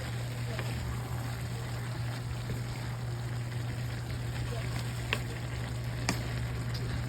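Vegetable lumpia frying in oil with soy sauce gives a steady, even sizzle with a low electrical hum underneath and a few faint sharp pops and clicks scattered across the stretch.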